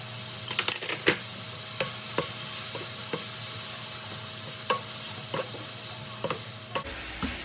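Minced pork stir-frying with chili and holy basil in a pan, a steady hiss of frying under repeated sharp clacks and scrapes of the spatula against the pan, with no talking.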